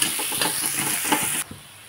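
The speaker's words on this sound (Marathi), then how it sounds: "आता कांद्याला फक्त मी 1 ते 2 मिनिटं परतून घेते" Chopped onion sautéing in a pan for a sweet corn Manchurian fried rice, a steady close sizzle with scraping stirs, the frying noise dropping off sharply near the end.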